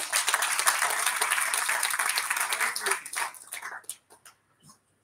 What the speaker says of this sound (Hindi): सबसे पहले उन्हीं का अभिनंदन कर देते हैं तालियों से